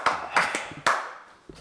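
Hand claps between two people in a casual indoor setting: a few sharp separate claps with uneven spacing, close and fairly loud, fading into quiet at the end.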